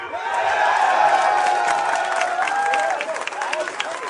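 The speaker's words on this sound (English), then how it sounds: "They're not cheering for you, Garnet." A live studio audience cheers and applauds for a gaming podcast, a continuous wash of clapping with whoops and excited voices that holds steady and then thins toward the end.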